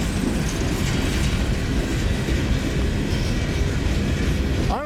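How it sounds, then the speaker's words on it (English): A freight train hauling coal cars rumbles past close by, a loud, steady roar of rolling wheels and rattling wagons with rhythmic clatter, and a faint squeal near the end. "Oddly enough, this train actually came from our area, too."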